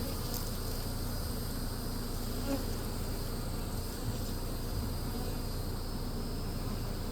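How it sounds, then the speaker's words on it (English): A dense, continuous buzzing of many bees, steady and close, filling the whole clip without any talking. "Just tons of bees."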